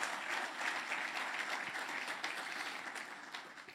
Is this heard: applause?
yes